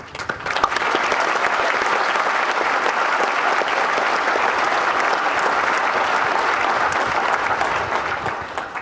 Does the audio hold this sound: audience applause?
yes